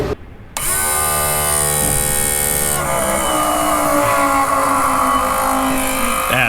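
A Hi-cycle 6000 pump starts up after a short quiet moment and then runs loud and steady, drawing only air, with a constant mechanical hum and whine that shifts slightly in pitch partway through.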